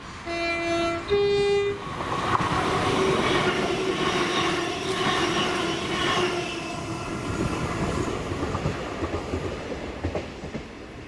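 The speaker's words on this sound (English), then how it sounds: "70808, sounding absolutely amazing coming up the gradient" Colas Rail freight train hauled by locomotive 70808 climbing a gradient, opening with two loud horn blasts, then a heavy, steady diesel roar and clattering wagons passing close, slowly fading toward the end.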